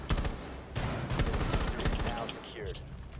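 Rapid automatic gunfire from Rainbow Six Siege rattles out in loud, sharp bursts separated by a brief gap, with a player's voice talking over the shooting.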